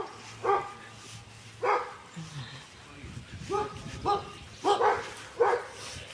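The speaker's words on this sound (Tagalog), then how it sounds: "Wa, dami ng aso doon." Several dogs of different breeds bark in short bursts outdoors in strong wind, some closer and louder than others, with a brief whimper between barks.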